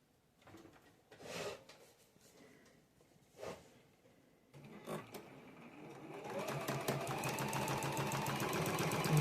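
A sewing machine stitches pieced quilt blocks for a pinwheel nine-patch, starting with a few short handling bumps and then running steadily, a dense whirring rattle that grows louder and more continuous toward the end.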